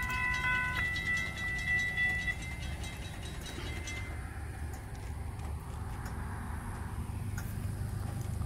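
A Florida East Coast Railway train moves through a lowered grade crossing near a siding, a faint, steady low rumble with brief ringing tones early on, heard from a distance.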